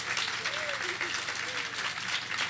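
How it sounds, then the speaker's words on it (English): A live audience applauds at the end of a panel discussion on a book festival main stage, with sustained clapping and a few voices rising over it. "join me in a round of applause for our panelists"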